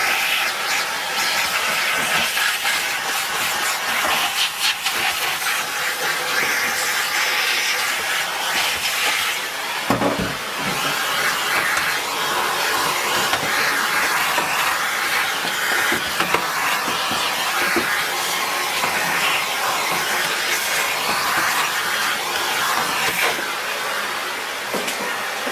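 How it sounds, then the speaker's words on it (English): A Dyson DC04 upright vacuum cleaner runs continuously while hoovering, giving a loud, steady hissing roar with a brief dip near the middle and no voices. "I'll hoover that out as well"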